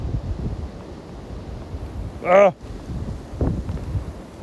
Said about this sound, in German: Wart mal kurz den Windsturm ab hier.